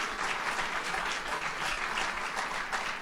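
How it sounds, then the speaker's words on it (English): An audience at a University at Buffalo medical school milestone event gives the dean a round of applause, continuous crowd clapping at a steady, somewhat distant level with no voices over it. "Let's give Dean Kane a round of applause."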